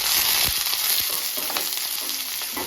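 Beet and carrot pieces with potato sizzle steadily in hot oil in a pan, with a few soft scrapes of stirring over a continuous, fairly loud frying hiss.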